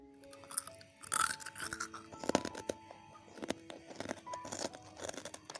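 Crispy homemade cookies are crunched and chewed up close, giving a dense run of irregular crackling bites and crumbly snaps that continue steadily throughout, with no talking.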